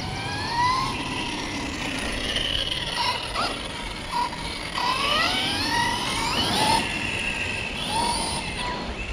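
ARRMA RC car electric motor at low throttle, a continuous mechanical whir with warbling, rising and falling whine and gritty drivetrain rattle, close and fairly loud throughout.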